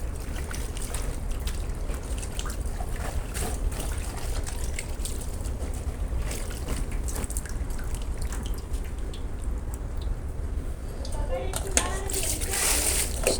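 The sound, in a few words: washing leafy greens under running motor-pumped water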